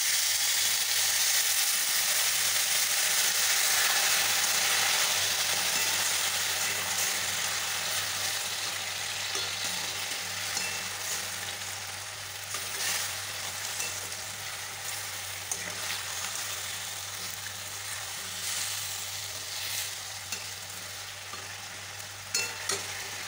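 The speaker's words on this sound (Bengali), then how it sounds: "এখানে সামান্য জল দিয়ে দেবো।" Olive and chalta chutney frying in a pan as a little water is added, a loud, steady sizzle and hiss that gradually softens and continues under light stirring.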